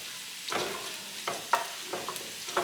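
Ground beef sizzling in a pot on low heat, a quiet sizzle broken by a handful of soft stirring scrapes and clicks, close and without talking.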